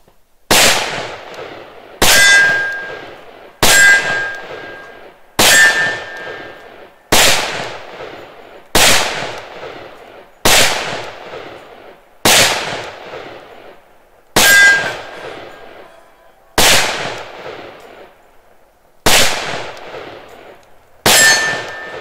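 Eleven sharp, loud shots from a Springfield XDm 4.5 pistol chambered in 10mm, firing carry rounds. They are spaced evenly about two seconds apart and each rings off in a short echoing decay, with no talking.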